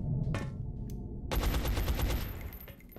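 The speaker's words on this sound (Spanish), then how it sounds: "Voy a intentar dos tiros de 27." Video game gunfire from XCOM: Enemy Unknown, a burst of rapid automatic shots that erupts after a quieter moment and sustains with a metallic ring, loud and close, alone without talk.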